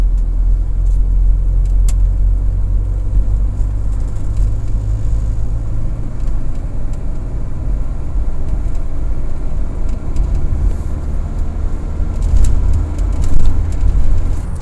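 A turbo diesel car engine runs at full throttle in fifth gear, giving a loud, steady low rumble. It holds nearly unchanged throughout, with no talk over it.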